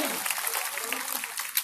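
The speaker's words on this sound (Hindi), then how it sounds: "ताली बजाइए पुजारी जी।" A temple audience welcomes an elderly priest with a short burst of dense applause, loud and continuous, with a voice speaking over it.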